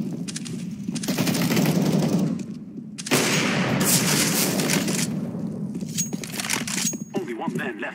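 Rifle fire in the shooter game CS:GO during bot practice, loud bursts of automatic shots and booms in two main volleys with brief lulls, under a player's voice.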